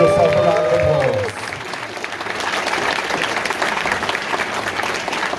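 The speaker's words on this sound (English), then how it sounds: "Give yourself a round of applause." Audience applause at an anime convention's closing ceremony, loud sustained clapping from a large crowd filling the room, with a brief voice and electronic tones at the very start before the clapping takes over.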